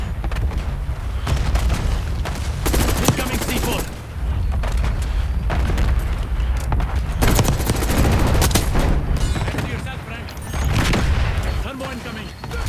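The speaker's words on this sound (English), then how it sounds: "Everything is exploding." Repeated booms, blasts and bursts of gunfire from a Black Ops 6 Hardpoint match, loud and dense with barely a pause, one volley running into the next.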